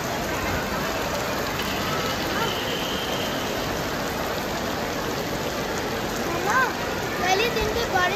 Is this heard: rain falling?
yes